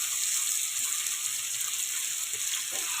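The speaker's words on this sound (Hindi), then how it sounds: "ऐसे हमारे टमाटर फ्राई हो रहे हैं, भुन रहे हैं" Tomatoes frying in a pan for a tomato chutney, giving an even, continuous hiss of sizzling oil that holds steady throughout.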